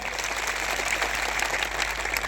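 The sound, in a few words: applause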